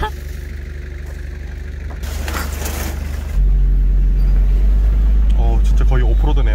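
A manual-transmission car on a rough off-road track near Hallasan on Jeju hums steadily from inside, its engine note dropping and deepening after a gear change, with people talking over it.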